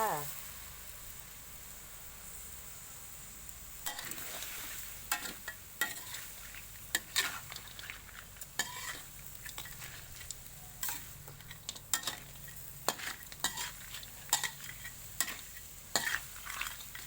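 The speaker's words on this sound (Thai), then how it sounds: "ผัดปู ปูผัดผงกะหรี่สามเกลอนะคะ ทั้งหมูสามชั้น ปูนาแล้วก็ปูม้านะคะ" Crab stir-fried in curry powder with pork belly and field and blue swimmer crabs, a soft sizzle under repeated spatula scrapes and clacks against the pan, fairly quiet, with a voice talking over parts of it.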